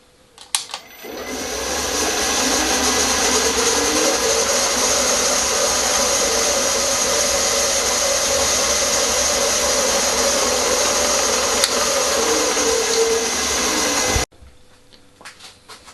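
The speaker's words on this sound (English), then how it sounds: "First, drill all four 5mm." An electric drill bores 5mm holes through a track-saw guide, starting up and then running loud and continuous for about thirteen seconds before stopping abruptly, with faint clatter afterward.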